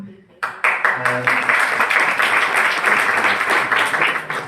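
After a few spoken words, an audience at a bilingual English-Urdu talk bursts into sustained clapping, many hands close and loud, holding a thick even patter until the end.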